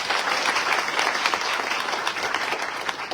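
Dense, loud clapping from an audience at a business meeting or seminar fills the whole stretch, steady and sustained with no pauses.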